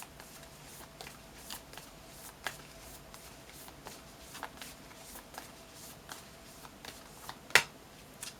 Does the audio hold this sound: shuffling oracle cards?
yes